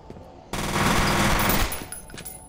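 A loud, close burst of rapid automatic gunfire in the shooter game FEAR, lasting about a second, followed by a few fading echoes and clicks.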